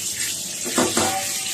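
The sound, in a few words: washing mutton meat under water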